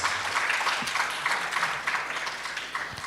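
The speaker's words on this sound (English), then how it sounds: "Please clap hands for our judges" An audience at an entrepreneurship intervarsity event claps for the judges, a moderate, uneven patter of hands that carries on steadily, slightly distant and fairly soft.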